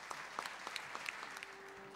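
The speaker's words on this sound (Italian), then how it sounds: "quindi un grande applauso anche a queste donne perché lo meritano" Brief, fairly faint applause from an audience at an International Women's Day event, scattered claps rising and thinning over a couple of seconds.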